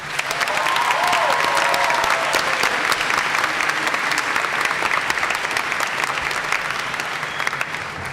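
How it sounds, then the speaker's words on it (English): A graduation audience gives a big round of applause for families at a 2018 high school ceremony, dense, loud clapping that holds steady throughout, with a few raised voices early on. "So class of 2018, please, let's give our family a big round of applause."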